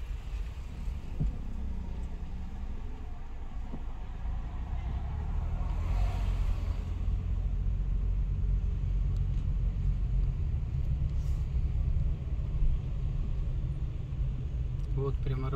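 A car driving slowly through the parking lot at the Ferrari factory in Maranello, a steady low engine and road rumble heard from inside the car throughout.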